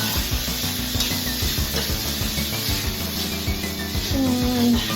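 Garlic paste sizzling in melted butter in a pan, a steady close, bright hiss with occasional soft stirring scrapes.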